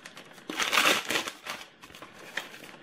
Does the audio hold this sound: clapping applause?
no